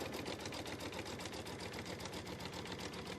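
Embroidery sewing machine stitching quilting fabric for a Kimberbell Pumpkins & Potions quilt, a steady fast mechanical whir with rapid even needle ticks, loud and close, running alone throughout.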